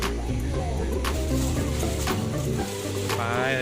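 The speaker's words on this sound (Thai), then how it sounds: "อาม่าอาม่ากำลังปิ้งปิ้ง ใส่ทัพทิมก็ใส่ผักค่ะ" Egg and vegetables on a grill outdoors at a campsite: a steady, close sizzle runs throughout, with light scraping and clinks and a voice talking over it.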